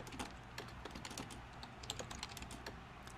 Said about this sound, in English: And I'm going to type